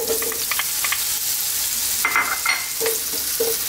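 Raw potatoes fry in hot oil for an eggplant and potato curry, a loud, close, continuous sizzle with intermittent stirring scrapes and light utensil knocks throughout.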